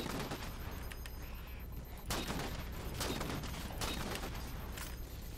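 Sniper rifle fire in the Halo 4 video game: several sharp, loud shots crack out at irregular intervals over a steady, noisy game background.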